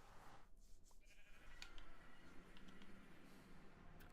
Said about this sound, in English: Oh, hi sheep.